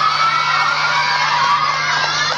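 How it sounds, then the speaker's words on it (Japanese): Concert crowd at a live show at Sendai MA.CA.NA in 1998 cheering and applauding, a dense continuous roar of clapping and shouts, loud and unbroken, with a steady low electrical hum beneath. "熱いエールと温かい拍手を送ってくださる。"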